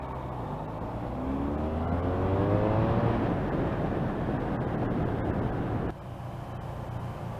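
A 1986 Honda Interceptor 500 motorcycle pulls away in second gear, its engine note rising steadily in pitch as it accelerates, then easing off near the end, steady and fairly close amid road noise.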